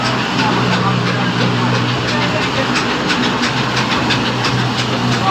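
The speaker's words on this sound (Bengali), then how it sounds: "আমাদের মিল চলতেছে এই যে।" A mustard oil mill machine running in a workshop, a loud steady mechanical drone with a low hum and hissing noise throughout, close and continuous, with a voice talking over it.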